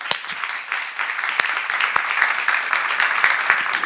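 A church congregation at a Bible seminar applauds together: dense, steady clapping that fills the whole stretch at a fairly loud level, with scattered sharper individual claps standing out.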